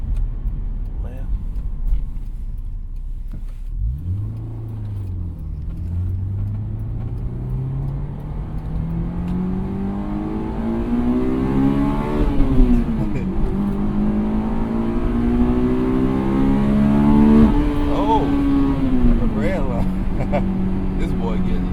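A Honda S2000 AP1 engine revs hard while driving, its pitch climbing through the gears with sharp drops at each shift. The roar is loud and close from inside the car, and people talk over it.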